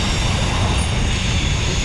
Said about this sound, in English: let's let this train get by